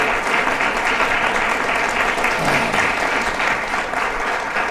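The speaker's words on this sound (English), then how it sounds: "So let's give them a big round of applause to appreciate it." An audience at a talk on training future transportation leaders claps in a steady, even round of applause, many hands close together, sustained throughout without cheering.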